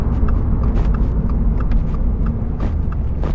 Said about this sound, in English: Good downshifts.